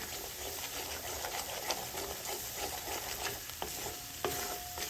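Spices fry over a low gas flame for street-style masala Maggi, a soft, even sizzle with light stirring taps and scrapes close by and no voices.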